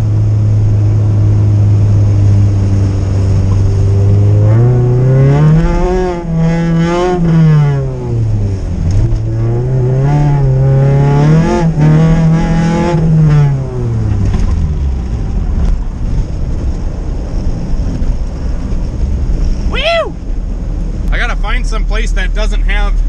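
A vehicle fitted with drywall screw tires drives on snow. Its engine revs up and down in repeated surging swells, loud and close, then drops off near the end to a few sharp clattering sounds.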